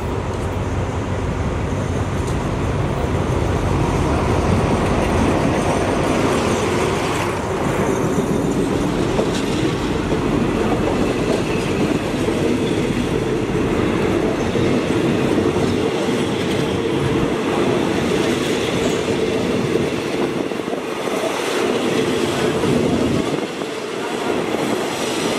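A train rolls steadily through a Thai railway station, a loud, close, continuous rumble of wheels and carriages with rhythmic clacking over the rails, easing slightly near the end.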